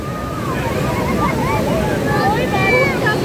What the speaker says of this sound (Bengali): একদম সাদা বালির বিচ